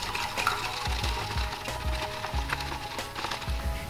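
A spoon swirls tap water with salt and blue food colouring in a container, giving a quick, regular scraping and clinking rhythm of light knocks against the sides, close but quiet, with no one speaking.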